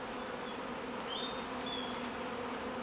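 Honeybees drone in a dense, continuous hum during the splitting of an urban beehive, with a few individual bees whining past close by.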